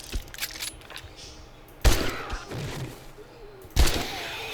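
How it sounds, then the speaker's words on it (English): Gunfire at a zombie in the 7 Days to Die video game: two loud sharp shots about two seconds apart, each with a short ringing tail, over faint background noise. "Let's just shoot him in the back."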